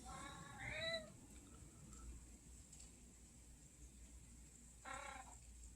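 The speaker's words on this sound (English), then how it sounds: "That's my cat." Two distinct meows, one near the start and another near the end, with a quiet gap between them over low background noise.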